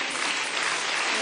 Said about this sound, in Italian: Questo applauso vale una telefonata al telefono.